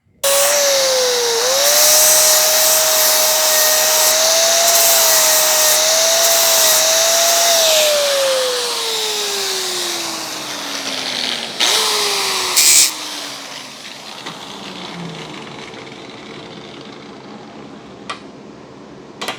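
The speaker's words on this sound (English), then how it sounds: "I'll take this over to the vise right quick, clamp it up, and use a sanding disc just to knock that off" A sanding disc grinds down a metal hinge clamped in a vise, a steady high whine over a bright hiss that later winds down in pitch, followed by quieter scraping and a few light knocks.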